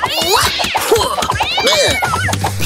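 Animated cartoon cat meowing in a series of loud, wavering, drawn-out cries, with a strained caterwauling quality near the close.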